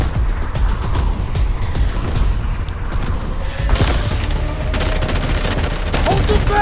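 Loud, dense missile-strike explosions and booming blasts roll continuously with rapid crackling bursts, bombs splitting into secondary explosions in the video game Delta Force, close and relentless.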